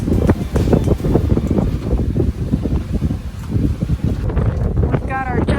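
Strong wind roars across a sailing boat with its Genoa heavily reefed near the Cyclades, a loud, constant buffeting rush over the microphone with a voice talking over it.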